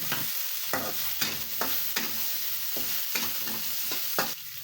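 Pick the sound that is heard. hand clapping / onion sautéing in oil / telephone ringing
onion sautéing in oil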